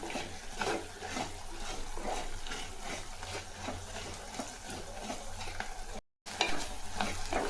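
Onions sautéing in a pan for a village-style fish curry, a steady close sizzle with repeated scraping stirs of a spoon, broken by a brief gap near the end.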